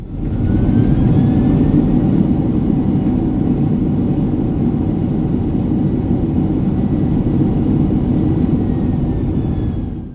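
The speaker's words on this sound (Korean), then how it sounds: "오후 4시 28분 세계 마지막 보잉 767 여객 착륙." A Boeing 767 airliner, an Asiana jet on its final retirement flight, rolls out after landing, giving a loud, steady low engine roar and whir that holds at an even level throughout with no talk.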